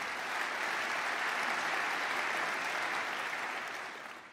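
An audience at a German savings bank congress opening claps in a steady, even roar of applause that holds for several seconds before tapering off toward the end.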